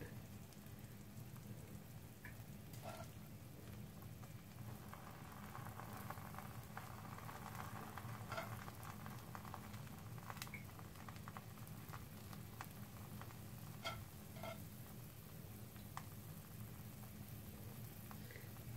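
Meat and peppers cooking in a pan over low heat, giving a faint, continuous crackle and gentle spitting with occasional sharper pops, quiet and unaccompanied by talk.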